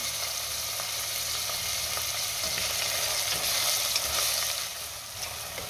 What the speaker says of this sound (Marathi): आता आपण त्यामध्ये टोमॅटो घालूया आणि टोमॅटो सुद्धा दोन ते तीन मिनटं चांगला परतून घेऊया